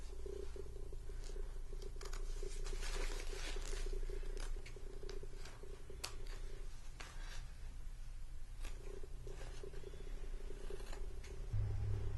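Detailed scissors snip through fabric for a reverse appliqué heart on a messenger bag, a close series of soft, irregular crisp cuts over a low, steady background hum.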